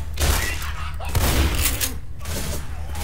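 Gunfire in the zombie shooter Left 4 Dead comes as dense bursts of booming shots and thuds, loud and close, with brief rapid volleys throughout.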